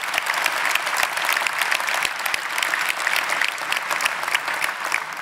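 An audience at a political speech breaks into steady, sustained applause, a dense even clapping that holds at full strength throughout.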